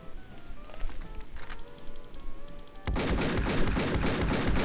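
Winchester City Killer shotgun in Fallout: New Vegas, a dense burst of loud gunfire erupting after a quieter stretch of game ambience and continuing steadily to the end.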